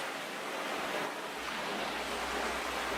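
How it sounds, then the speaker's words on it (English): Ocean waves washing in a continuous soft broadband roar, steady and fairly faint, with no talk. "Let's listen to some ocean sounds."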